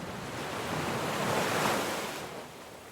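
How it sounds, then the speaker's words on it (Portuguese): Sea waves breaking on a shore, a continuous broad roar of surf that swells to a peak midway and then eases off, with some wind noise and no voices. "embalada pelo som das ondas do mar"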